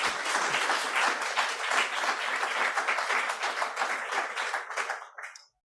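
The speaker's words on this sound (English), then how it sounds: "if we could have a round of applause for our panelists," Warm audience applause for conference panelists at an aviation decarbonisation event, a crisp, dense round of clapping lasting about five seconds before tapering off into silence.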